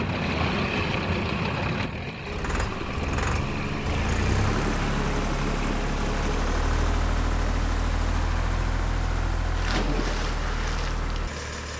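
Cartoon tractor engine hauling a stranded ship off the shallows in reverse: a loud, continuous low rumble with a droning engine tone that swells and holds, over a broad washing noise like churning water.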